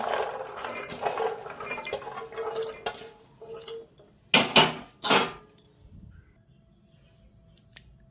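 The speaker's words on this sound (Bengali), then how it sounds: "ভেজানো ছোলাটা প্রেসার কুকারে দিয়ে দিচ্ছি" Soaked kabuli chickpeas go into a metal pressure cooker with scattered clinks, scrapes and taps, a couple of louder clattering knocks in the middle, then near quiet.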